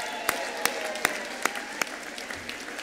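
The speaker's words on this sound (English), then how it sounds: "So again, a big cheer" An audience at a ceremony claps in a thin, evenly spaced run of single sharp claps, fairly faint against a quiet room.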